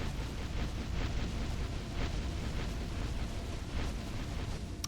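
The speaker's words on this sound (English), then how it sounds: "Fire jets!" A fire jets spell bursts in a Minecraft roleplay, a dense roaring rush of flame with rhythmic pulses, steady and fairly loud with no voices over it.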